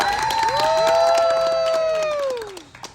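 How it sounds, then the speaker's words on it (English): A crowd cheers and whoops for a special guest turning 21, with loud sliding vocal shouts rising and falling over a steady roar that fades near the end. "Let's give him a round of applause."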